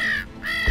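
A voice mimics a crow's caw in two short, nasal bursts with a brief break between them, loud and close.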